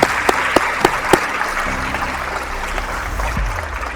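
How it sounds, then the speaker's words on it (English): Graduating youths' audience claps in a dense, steady wash of applause, with a few sharp louder claps near the start and low murmuring underneath. "round of applause for yourselves"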